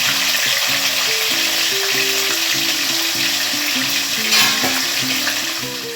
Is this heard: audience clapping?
no